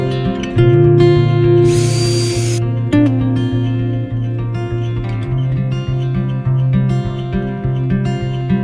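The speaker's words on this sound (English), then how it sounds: "we're going to drill holes for the fan" A power drill bores holes through the roof of a Ram ProMaster van for a MaxxAir fan install, its motor whining in a steady, loud hum with a brief harsh burst as the bit cuts through metal.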